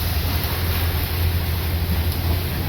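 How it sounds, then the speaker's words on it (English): Squall wind over 20 knots with big seas striking a cruising sailboat head-on, a loud continuous roar of wind and rushing water with deep low rumble throughout. "the waves right on the nose and the wind right on the nose"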